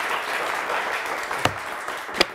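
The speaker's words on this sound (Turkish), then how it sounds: "kocaman alkış" A studio audience at a Turkish television word-quiz show applauding: continuous, even clapping from a crowd throughout, with two sharper, closer claps standing out near the end.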